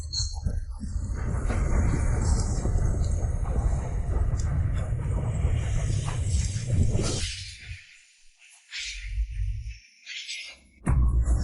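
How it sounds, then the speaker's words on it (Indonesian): Heavy thunder rumbles in a fantasy cultivation audio drama as storm clouds gather again, a loud, sustained broadband roar lasting several seconds before dropping away into softer bursts and a final sharp crack. "Awan petir yang baru saja menghilang berkumpul lagi."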